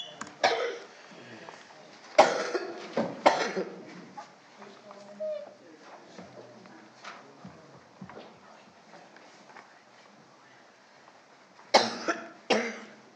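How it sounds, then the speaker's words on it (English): Someone coughs several times in harsh bursts in a council meeting chamber, a cluster early on and another near the end, with quieter room noise and scattered movement between. "Excuse me, councillors, coughing."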